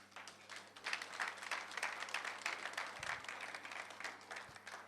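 Audience applause at an Igbo heritage lecture and awards ceremony in a Pretoria hotel hall, steady clapping from a crowd sustained for about five seconds at moderate level, with no voices over it.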